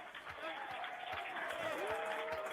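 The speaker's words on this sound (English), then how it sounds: "Nerds cheering, man" A room of NASA team members cheers and claps at the Perseverance rover's Mars landing, a dense, muffled crowd roar with excited voices rising above it.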